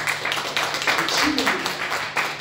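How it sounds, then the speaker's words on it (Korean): A church congregation at a morning worship service claps for two seniors, producing a moderate, fairly even rustle of many hands with faint voices under it, continuing through the short stretch. "김혜숙, 정원준 선배에게 박수 한번 해주세요"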